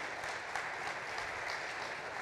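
Brief, soft applause from the audience at a retail awards ceremony in Paris, an even patter of clapping heard at low level without speech.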